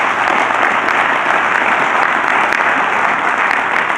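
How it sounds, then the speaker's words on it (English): A conference crowd applauds a panel with loud, dense, continuous clapping that stays steady throughout, close and unbroken by voices. "People can join me and give them a round of applause."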